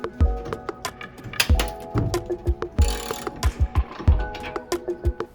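A T40 Torx bit undoes a seatbelt bolt in a Vauxhall Movano van, heard as a close series of sharp ratcheting clicks and metallic knocks in an irregular rhythm.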